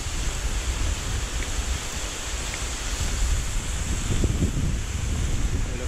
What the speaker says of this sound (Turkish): Şurası şelale. Üst taraftan buradan aşağı uçuyor.